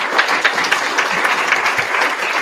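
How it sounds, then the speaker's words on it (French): Brief burst of audience applause following a talk and question session, dense steady clapping close and fairly loud throughout, with no speech. "On a un petit tonnerre d'applaudissements encore pour Sylvain."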